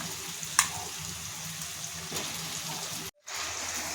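Chicken frying in a pan with onion and ginger-garlic paste makes a steady hiss and sizzle, with a brief clatter early on and a short silent gap near the end.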